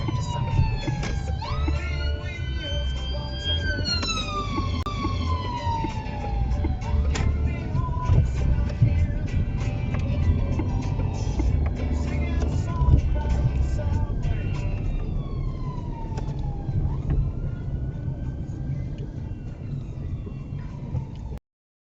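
An emergency vehicle siren wails in repeated rising and falling sweeps, heard from inside a car while driving, over steady road noise and moderately loud throughout.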